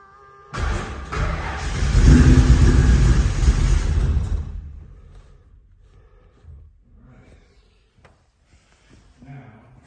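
A Ford Bronco engine catches after gas goes into the tank, a loud rumbling run lasting a few seconds before dying away into quiet with a few faint knocks and clicks.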